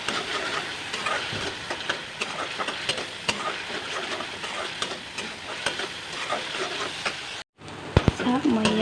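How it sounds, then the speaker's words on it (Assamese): Turmeric, ginger and garlic fry in a pan for rajma, giving a steady close sizzle with stirring scrapes, a brief cut near the end, then louder clatter. "তেতিয়া আদা আৰু নহৰু বাছি যোৱাকৈ এনেকৈ অকণকৈ ভাজি ল'ব"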